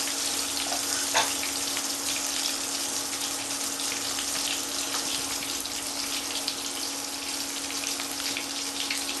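Eggplant pieces fry in a pan with a steady, close, hissing sizzle that runs evenly throughout, with a faint crackle and a constant low hum behind it and no talking.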